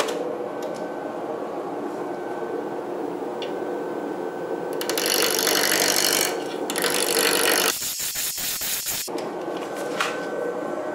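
A chisel cuts a wooden wand spinning on a wood lathe, giving a steady whirring hum with a harsher scraping burst midway and a rapid rattling chatter before the cut settles back to a hum.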